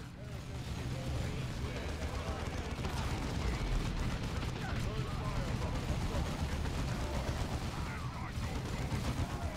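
Gunfire and grenade explosions from the video game Dawn of War II form a dense, continuous roar of rattling shots and booming blasts, with a voice talking faintly underneath.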